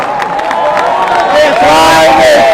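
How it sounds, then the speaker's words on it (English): A conference audience in Amsterdam cheers and applauds as former soccer star Patrick Kluivert is called onto the stage, a steady, loud crowd roar with claps over a tonal musical backdrop. "Big applause"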